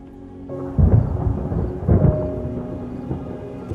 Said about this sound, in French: Il y a de l'orage dans l'air, George.